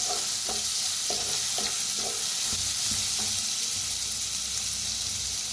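Ground masala paste with asafoetida roasting in a hot pan, a loud continuous sizzle with a run of rhythmic spoon scrapes in the first half that fade into steady frying.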